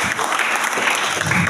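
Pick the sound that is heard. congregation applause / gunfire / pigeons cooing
congregation applause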